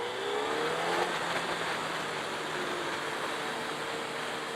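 A 2017 Suzuki Hayabusa motorcycle cruises along while ridden, its engine a steady hum buried under a heavy constant rush of wind noise, with no talking.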